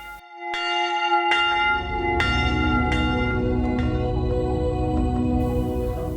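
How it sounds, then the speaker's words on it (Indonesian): Church bells ring out in the morning at a church in Cigugur, Indonesia, with several strong struck tones layering into a loud, resonant, sustained peal that fills the whole stretch. "lonceng di sebuah gereja pun mulai bergema"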